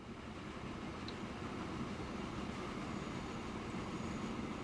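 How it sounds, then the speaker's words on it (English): Wood train in Transport Fever rumbles steadily and faintly, a continuous low rolling drone with no talk. "this is our wood train."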